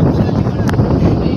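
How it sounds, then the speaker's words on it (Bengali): Strong wind gusts across the top of a tall water tank in an African bush setting, roaring loudly and steadily into the microphone at close range, with a voice heard under it. "হাওয়া এখন বিশাল তেজ"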